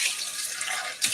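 Running water from a tap splashes steadily into a kitchen sink while something is rinsed, a short continuous hiss with a brief louder splash near the end.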